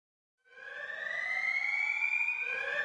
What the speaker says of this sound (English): Sirens begin to blare all around you